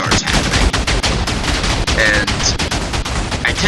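A TNT cannon in a video game firing again and again, a dense, rapid string of loud blasts with only brief gaps, close and unrelenting like machine-gun fire, with faint game tones underneath.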